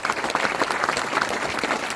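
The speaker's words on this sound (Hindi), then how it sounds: "सब लोग जोरदार तालियां से इनका सम्मान करें" Steady, dense applause from a large audience at a university National Sports Day celebration, many hands clapping together continuously throughout.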